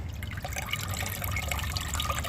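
Water from adobe clay pulp drains and trickles into a pan, a steady close liquid patter with small drips throughout, no voices.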